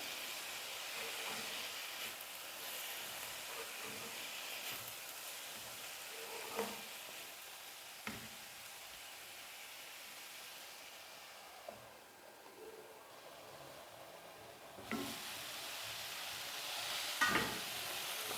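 Cabbage and other ingredients cooking in a covered pan for cabbage pachadi, giving a soft, steady steamy hiss with a few faint clinks and stirring knocks; quiet and continuous, no talk.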